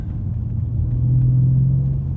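A 2010 Mercedes-Benz S500 4Matic engine in sport mode gives a steady low rumble, close and continuous, swelling slightly in loudness partway through on a curvy road, with no voices.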